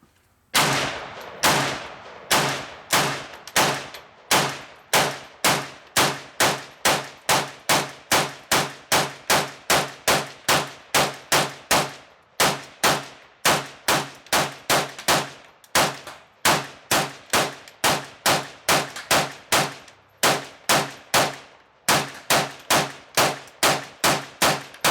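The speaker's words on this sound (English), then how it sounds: "So we got a 75 round drum in here, and we're gonna see what she can do" A gun fed from a 75-round drum firing at an outdoor range, loud sharp reports in a fast steady string of single shots, each with a ringing tail, continuing for about twenty-five seconds with only brief gaps.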